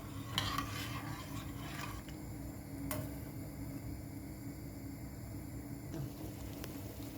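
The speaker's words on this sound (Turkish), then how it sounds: "Şerbetim kaynıyor." Sugar syrup bubbling in a pot, a steady low simmer with a few faint clinks and ticks from the pan.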